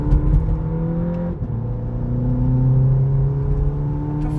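Inside a moving VW Polo GTI, a steady engine drone rises in pitch as the car accelerates, with a brief gear-shift dip partway through and constant road noise underneath.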